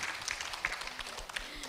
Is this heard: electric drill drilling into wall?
no